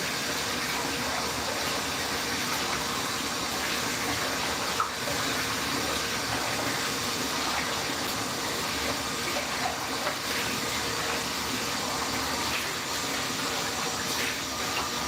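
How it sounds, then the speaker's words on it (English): Tap water runs in a steady, loud, continuous gush while items are rinsed in a kitchen during Christmas turkey dinner cooking, with no talking over it. "and then we'll do a little rinse of some items."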